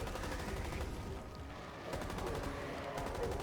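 Automatic gunfire from a deployed turret in the Rainbow Six Extraction video game, rapid fusillade bursts heard fairly faint and distant beneath a dense layer of game noise.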